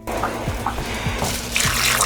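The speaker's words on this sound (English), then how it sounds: "I'm gonna add just a little bit more water" Water pours and splashes briefly into a pan of carrots, with light dripping and bubbling sounds close by.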